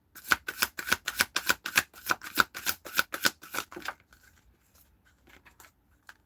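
A tarot card deck is shuffled close up in a quick, even series of about a dozen crisp riffling strokes, then the sound trails off into faint handling noises.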